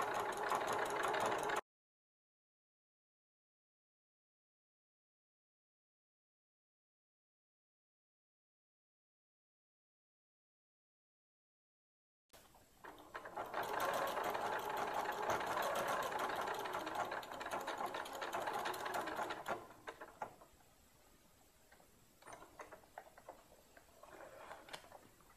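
A sewing machine stitches the tail of a handmade sock monkey, running steadily and fairly loud after a long silent gap, then slowing into lighter intermittent bursts toward the end.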